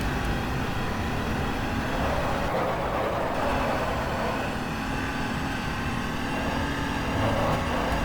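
A 2012 Audi R18 Ultra race car in the racing game GTR2 holds fourth gear at speed, its engine a steady, loud drone with a shifting tone and no voices over it.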